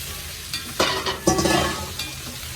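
Drumstick pieces go into a pan of sautéed onions, giving a burst of sizzling and a few stirring scrapes that then settle into a softer steady fry. No one talks.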